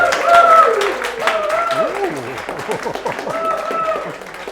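Audience applause at a speed-reading meetup, scattered clapping mixed with loud whoops and cheering voices close to the microphone, tapering off near the end.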